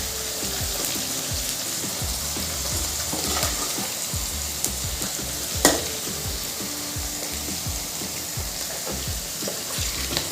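Capsicum frying with mixed vegetables for veg chowmein, a steady loud sizzle with frequent scraping stirs of a spatula in the pan throughout.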